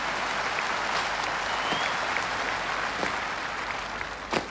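Sustained applause from a large audience at the 1980 Edinburgh Military Tattoo, following the Rutgers University Queens Guard's silent bayonet drill display; dense, steady clapping fills the whole stretch, with a few sharper claps standing out near the end.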